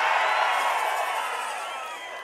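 Dense crowd roar at a political rally in Pudukkottai, a continuous loud wash of cheering and shouting voices that holds steady and slowly eases off, with no single voice standing out.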